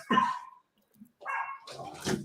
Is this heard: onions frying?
no